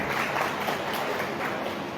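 An audience at a student talent award ceremony claps in a continuous, even wash of applause, with many hands clapping together at a moderate distance and no pauses.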